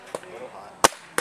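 Sharp pops from an Invert Mini paintball marker fired through a chronograph during an efficiency test, two clear shots about 0.7 seconds apart, close and crisp.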